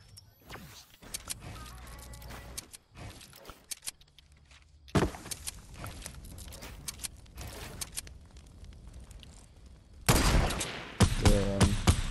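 Gunfire in Fortnite on PS4, scattered sharp shots and quick bursts separated by quieter gaps, with a loud cluster of shots near the end, alongside in-game movement sounds.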